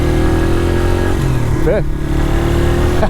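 A 1994 Honda XR100R motorcycle engine runs loud and steady while riding, its pitch dipping and climbing as gears shift up, with a voice briefly speaking over the drone.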